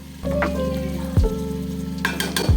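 Garlic, ginger, cumin powder, coriander powder and Kashmiri chilli powder are sautéed with fried winter vegetables for khichuri, a soft sizzle over a low steady hum, with a few scraping strokes of a spatula against the pan.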